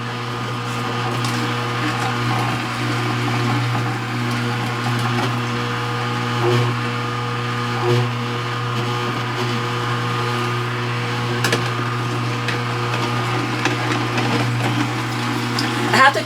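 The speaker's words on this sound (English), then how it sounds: "I have to keep reminding myself to slow down with this juicer" A juicer grinds cauliflower, cucumber and pear with a steady motorized whir and hum, continuous and close, while a person talks over it.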